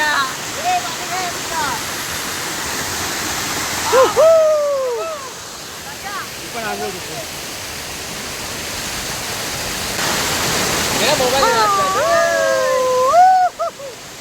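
Water rushing steadily at a dam during an outdoor bath, loud and close, with people talking and calling out over the constant roar.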